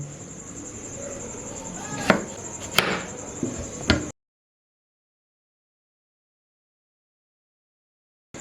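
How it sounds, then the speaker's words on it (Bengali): A knife chopping peeled potatoes, a few sharp chopping cuts over a steady high insect-like buzz, then silence. "আলুটারে আমি আগের দিয়ে ছাড়াই রাখছিলাম, এবার কাইটটা নেব"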